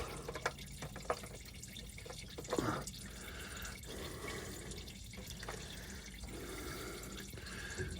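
Oil draining from a 2017 Ford 6.7 diesel during an oil change, a steady trickling and dripping stream into a pan, with a few soft knocks and clatters in a workshop.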